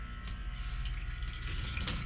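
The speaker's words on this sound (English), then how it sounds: "now as the water shut off" Water drains steadily from a barrel in a three-barrel koi pond filter system, a continuous close rushing and trickling wash with no talk.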